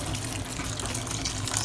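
Water poured into a pot of cooking rice, a short continuous splashing pour, close and steady, with no voices.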